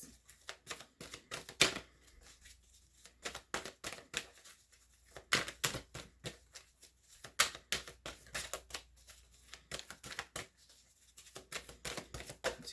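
Tarot cards are shuffled by hand in quick bursts of crisp riffling and slapping, separated by short pauses, close and fairly quiet with no voice.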